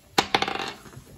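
Dice from a Pokémon Sink n' Sand board game clatter onto a tabletop, two sharp hits followed by a quick series of fading rattles and bounces, close and alone without talk.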